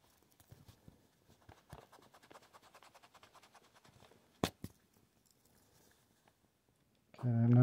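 A pen scratches faintly on paper in quick, intermittent strokes close by, with a couple of sharper taps midway and a loud burst of noise at the very end.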